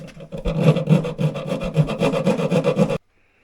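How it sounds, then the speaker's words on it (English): A small bastard file rasps back and forth through bolt slots on a vintage Polaris triple race snowmobile skid, sized for a 3/8 bolt; about three seconds of steady, close, rhythmic strokes, then silence. "A little bastard file. Getting the slots nice and clean so the 3/8 bolt goes up and down."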